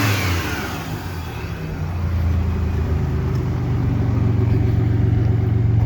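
A supercharged 3800 V6 in a 2001 Chevrolet Malibu swapped to a five-speed runs up close, a steady mid-pitched drone with a supercharger whir that swells slightly louder after a couple of seconds and then holds.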